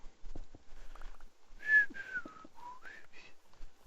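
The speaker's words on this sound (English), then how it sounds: "listen to me whistle Christmas carols from the Muppet Christmas Carol" A person whistles a Christmas carol tune from The Muppet Christmas Carol, a short clear melodic phrase of sliding notes, close and fairly quiet, with faint clicking in the background.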